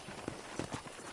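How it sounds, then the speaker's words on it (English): Horse hooves clip-clop in Red Dead Redemption, a few distinct hoof strikes in an uneven walking rhythm over a low, quiet ambient bed. "let's see if you can still ride a horse."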